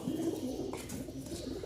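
Several pigeons coo in a low, rolling murmur, soft and fairly quiet, continuing steadily through the brief moment without any voices.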